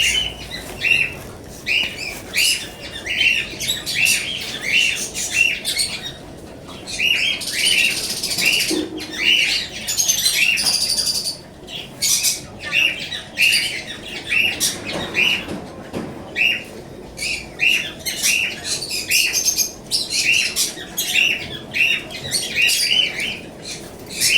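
Caged birds for sale chirp in rapid, repeated high tweets with occasional wing flapping, a close, busy chatter continuing throughout with no talk.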